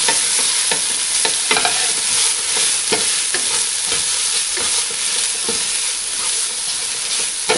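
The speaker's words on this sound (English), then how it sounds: "So just fry that briefly." Ginger and garlic fry in a hot pan with a loud, continuous sizzle, punctuated by regular scraping strokes of a spoon, close up, for a chicken-in-yogurt dish.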